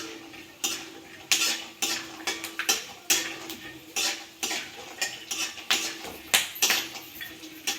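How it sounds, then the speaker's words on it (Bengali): Peanuts frying in hot white oil in a wok, with a steady sizzling hiss broken by repeated sharp clinks and scrapes of a utensil stirring against the pan, close and fairly loud, with no talking. "তেলটা গরম হয়ে গেছে, আমি বাদামগুলো ভেজে নেব।"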